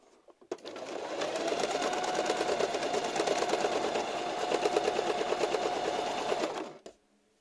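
Sewing machine running steadily to stitch a final seam all the way around a piece of work, a fast continuous mechanical whir that holds for about six seconds, close and loud, then stops.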